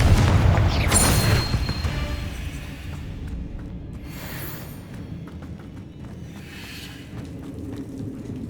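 A Confringo spell explosion in Hogwarts Legacy: one loud, close fiery boom up front, then softer bursts trailing off over a low, rumbling game background.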